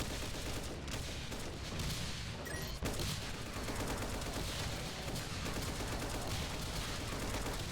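Video game gunfire from a held trigger rattles in a dense, continuous fusillade, loud and close, with no break across the whole burst and no voices over it.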